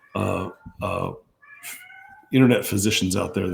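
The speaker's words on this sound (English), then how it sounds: "Excuse my two cats that think they're dying." Two house cats meow loudly and drawn-out, one after another and then overlapping in a wailing, caterwaul-like way, close by, with a voice talking over part of it.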